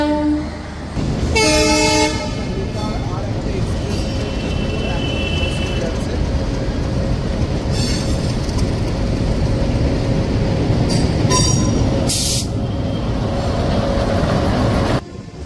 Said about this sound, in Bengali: আমাদের ট্রেন হাওড়া স্টেশন ছেড়ে বেরিয়ে যাচ্ছে।